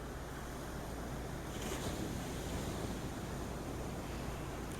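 Ocean waves roll into the shore at a beach around sunrise, a steady soft wash of surf and breeze, distant and even, with no voices.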